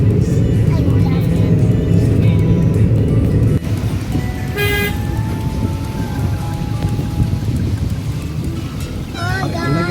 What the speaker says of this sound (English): Enjoy the rain so much.